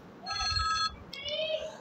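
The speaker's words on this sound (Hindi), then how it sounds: "एक मैं टेलीफोन सुन लूँ" A telephone ringing in two short electronic trilling bursts with a brief gap between them, fairly close, over a low background murmur.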